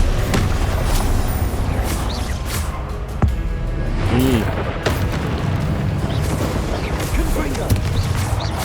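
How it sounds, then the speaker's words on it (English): Confringo fire spells burst repeatedly in Hogwarts Legacy, a dense run of loud booms and crackling blasts with sharp impacts scattered throughout, mixed with a talking voice. "Confringo!"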